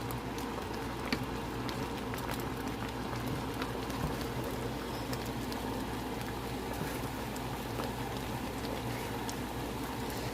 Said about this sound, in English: And see what they'll do is simmer.